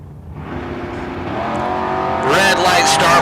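Drag race launch between a Dodge Hellcat and a 1966 Chevy II: loud engines rev and build steadily, rising to a harsh, brighter roar near the end, with tire noise and a crowd or announcer voice mixed beneath.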